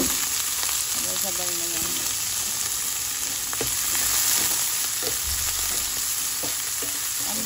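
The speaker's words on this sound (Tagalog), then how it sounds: "Igisa natin yung ating mushroom." Mushrooms sauté in a pan with onion, giving a steady close sizzle with occasional scraping stirs, while someone speaks briefly.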